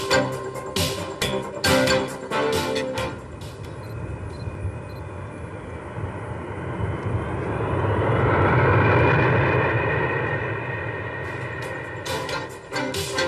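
Military transport aircraft of Military Airlift Command, such as Lockheed C-130 Hercules, C-141 Starlifter or C-5 Galaxy, droning steadily as engines swell louder to a broad roar, then fade, with no talk.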